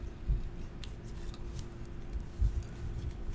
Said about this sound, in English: I'm going to cut. And then I'm going to cut.